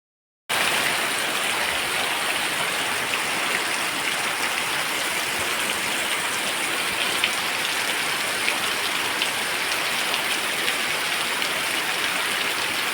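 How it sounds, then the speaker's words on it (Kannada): Steady rain pours continuously, a dense even hiss of drops hitting surfaces, with no talking. "ಈಗಲೇ ಮಳೆ ಬರ್ತಾ ಉಂಟು."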